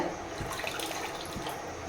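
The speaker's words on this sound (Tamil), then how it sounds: "தண்ணி ஊற்றிட்டு" Water poured into a pan while making mint tea at home, a steady broadband rushing splash lasting throughout, moderately close with no talk.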